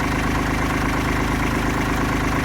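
A Kubota tractor's engine runs steadily while powering a 9000 lb winch pulling a stump. The close, loud idle-like rumble has a constant throb and no talking.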